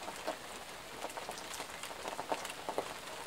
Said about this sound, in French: La pluie.